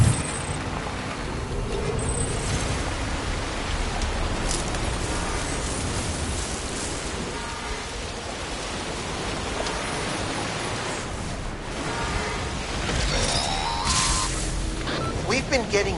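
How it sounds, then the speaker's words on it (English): Timefall rain in the Death Stranding video game hisses as a steady, dense wash of rainfall, with faint game tones and effects layered over it. "We've been getting near constant timefall in this region for a while now."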